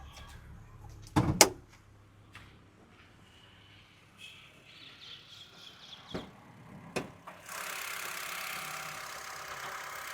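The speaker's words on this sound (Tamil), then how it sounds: "இப்போ வண்டியோட இன்ஜின் நம்ம ஸ்டார்ட் பண்ணிட்டோம்." A 2012 Honda Brio petrol engine idles faintly after starting, with a brief knock early on, a few scattered clicks and a steadier hiss rising toward the end.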